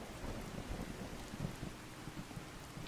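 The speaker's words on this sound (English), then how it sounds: "Hope this rain lets up soon." Steady rain with low rumbling thunder fills a stormy outdoor scene in Fallout 4, a continuous wash of downpour with soft thunder pulses underneath, moderately quiet and with no voices.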